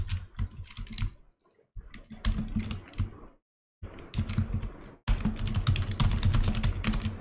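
Code for a neural network in NumPy being typed on a computer keyboard, with bursts of rapid, close key clicks separated by short pauses.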